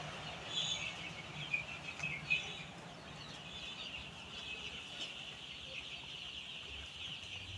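Chickens and chicks cluck and cheep on a poultry farm against a constant high hum, with a few louder calls early on and softer chatter later.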